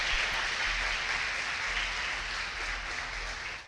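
A church congregation claps together in a steady wash of applause, moderately distant and even throughout, fading out abruptly at the end.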